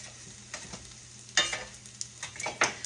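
A cheese omelette sizzles faintly in a pan while a utensil mashes it, producing a few sharp scraping clicks and taps over the low steady frying hiss.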